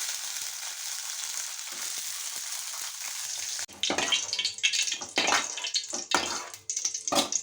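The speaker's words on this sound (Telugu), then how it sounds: "ఇప్పుడు వేయిస్తున్నానండి" Green chillies sizzle in oil in a pan with a steady crackling hiss, then scraping, stirring knocks and clatter take over in bursts while the frying continues.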